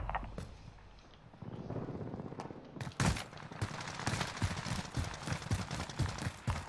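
Rapid bursts of automatic gunfire from the Warzone video game as a player shoots into the sky, loud and dense with a short lull before a sustained run of close, crackling shots.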